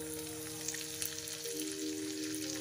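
Sliced ginger sizzles in hot ghee, a soft, steady frying hiss at close range, with a low hum running beneath it.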